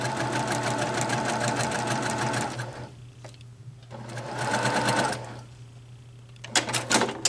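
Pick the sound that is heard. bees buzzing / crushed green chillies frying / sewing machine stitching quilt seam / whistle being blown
sewing machine stitching quilt seam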